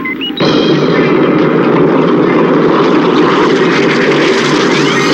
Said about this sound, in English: commencing liftoff.